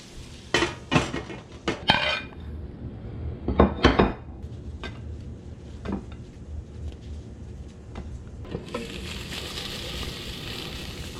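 Shrimp sautéing in a pan are pushed around with a utensil, giving scattered scrapes and clinks of metal on the pan over a soft, steady sizzle, then a brighter hiss near the end.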